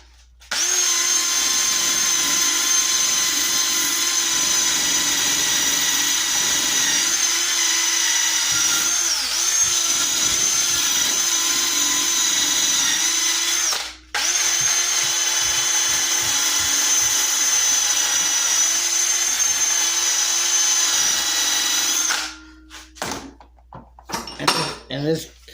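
A power drill fitted with a wire brush whines at high speed against a rusty metal tool, a sustained buzzing grind with a brief stop in the middle, then clattering handling noises at the end.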